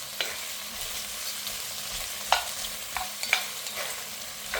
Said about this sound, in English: So just mix the onions with the potatoes